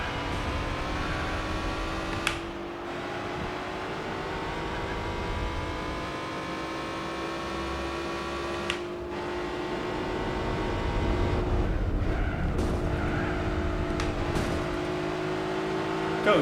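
Race car engine in Gran Turismo 4, a steady droning whine holding a high pitch for a long stretch, rising somewhat later on, with a few brief sharp clicks or shifts in between.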